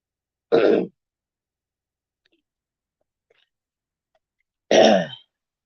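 A person with a cough clears their throat twice, two short harsh bursts several seconds apart, close and loud, with silence in between.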